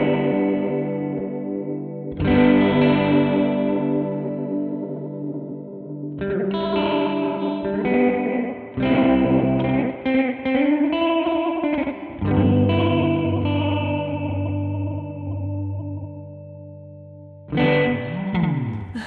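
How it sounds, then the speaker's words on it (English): A Source Audio Artifakt lo-fi pedal processes a sustained instrument with tape-noise modulation, giving a warbling, chorus-like wobble and gritty distortion over held chords. Chords change every few seconds and swell and decay in a loud, reverberant wash. "It adjusts the amount of tape noise in the modulation path."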